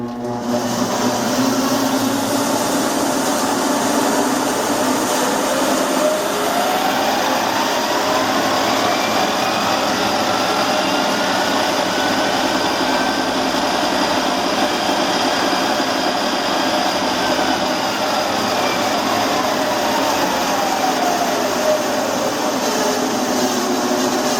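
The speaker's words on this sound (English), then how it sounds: "we are going to go and start this thing up. We'll start with the mill head" Smithy Granite 1324 lathe-mill combo machine with its mill head spinning up and running, a steady loud mechanical whine and motor hum with a rising then falling tone, no voices.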